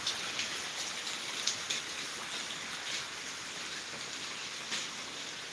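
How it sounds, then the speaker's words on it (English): Steady rain falls outside, a continuous soft hiss of drops on surfaces with faint scattered patters, heard alone at low volume. "it's really raining back here"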